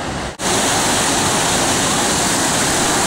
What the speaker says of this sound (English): What we have here is just pounding rapids coming down hard